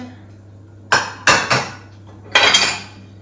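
Plates in a dishwasher rack knock and clink together in a few sharp, close clatters, two quick bumps and then a longer rattle, with quiet in between.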